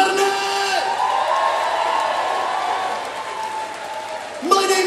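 A rock concert crowd at Rock City claps and cheers through a sustained roar, with whoops rising out of the noise while the band's tones ring on above it.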